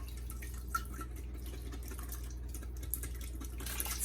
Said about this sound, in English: I'm gonna dump in the celery.